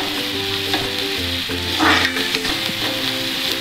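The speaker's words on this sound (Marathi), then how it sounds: "आपण त्यामध्ये ही आलं लसूण पेस्ट आहे ती घालून घ्यायची आहे" Onion sautéing with ginger-garlic paste for pav bhaji gives a loud, steady sizzle close up, broken by brief scraping stirs in the pan, with no talking.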